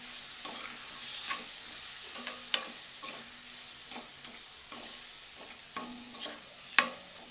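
A spoon stirs brinjal and potato curry with coriander and other spice powders in a pan. Soft scraping strokes recur over a gentle, continuous sizzle, with no talking.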